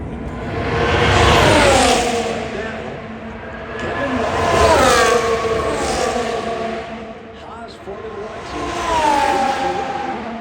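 Formula 1 race cars, including Lewis Hamilton's on medium-compound Pirelli tyres, pass through a corner at the Las Vegas Grand Prix. High-pitched engine whines swell and fade in three successive passes, with crowd or commentary noise underneath.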